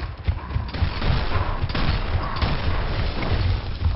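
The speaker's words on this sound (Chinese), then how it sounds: "我都超近的开枪了，却没有射到他" Rapid bursts of gunfire from the Gears of War Ultimate Edition video game, dense and loud with booming low thuds running continuously through the whole stretch.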